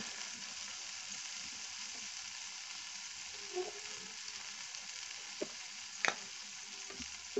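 Magur catfish cooks with turmeric, chili, coriander and cumin powders in a pan, giving a faint, steady sizzle broken by a few soft utensil clicks near the end. No one speaks.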